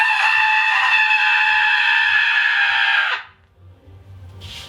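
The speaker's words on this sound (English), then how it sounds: "here goes the scream. Door open." A person screams behind an open door during a soundproofing test inside a converted school bus. The sustained, strained, harmonic-rich scream lasts about three seconds, then cuts off, leaving a quiet room with faint rustling.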